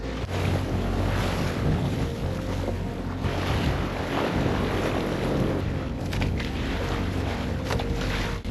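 Boat engine droning steadily as the vessel heads out toward deeper water off a reef-fringed coast, mixed with waves, splashing and gusty wind buffeting the microphone throughout, with a few sharp knocks near the end.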